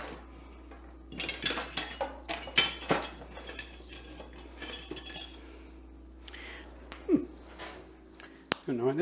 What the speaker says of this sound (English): I'm going to grab a whisk and see if I can break that up a little bit more.